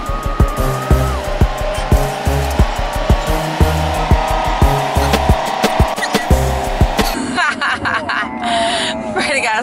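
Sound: car driving fast

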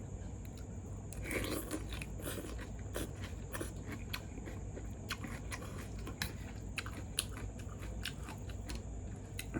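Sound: eating Mama instant noodles with blanched vegetables

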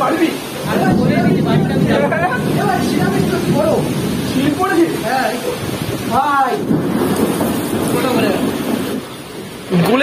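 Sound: heavy rain with thunder

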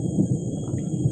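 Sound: thunder rumbling in the Kalimantan forest

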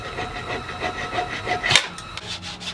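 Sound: flush trim saw cutting wooden dowels

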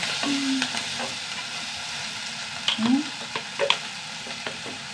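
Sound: sautéing onions and chilies in a pan

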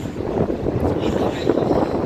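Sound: sudden wind

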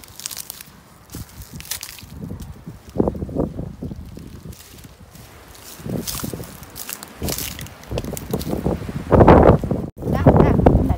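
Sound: strong wind blowing

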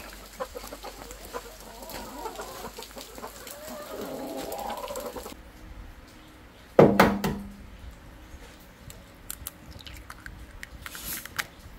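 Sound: chickens clucking at the coop

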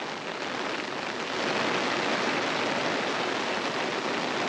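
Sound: heavy rain with wind

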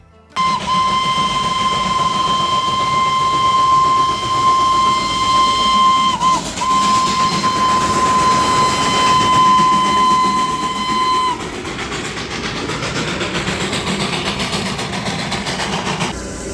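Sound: Darjeeling toy train, diesel and coal powered

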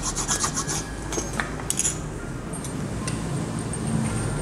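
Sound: filing a newly fitted motorcycle part with a file

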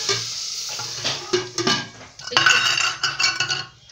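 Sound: hot hing tempering poured into bathua dal, sizzling

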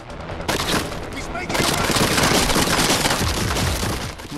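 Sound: gunfire in the video game Splinter Cell Blacklist

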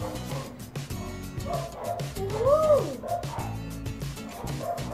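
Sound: neighbours' dogs barking

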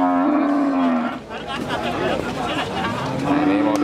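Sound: cattle mooing

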